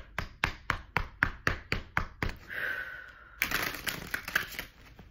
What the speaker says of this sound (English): this feels so good to shuffle